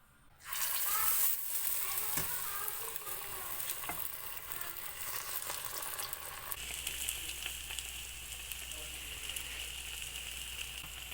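Pumpkin and onion vadas made from a thick rice-flour batter fry in a pan, a continuous moderate sizzle and crackle that stays steady throughout, with no speech.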